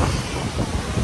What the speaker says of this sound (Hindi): इतनी हवा चल रही थी, इतनी ज्यादा हवा, बहुत ज्यादा हवा